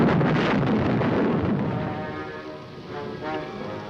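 Thunder from a storm in the 1955 film Bride of the Monster, a loud, rolling rumble that slowly fades and then swells a little again, with rain and wind noise beneath it.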